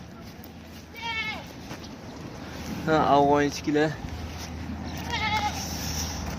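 Hisar sheep bleat several times, a short bleat, then a louder wavering call nearby, then another, while a person speaks briefly in between.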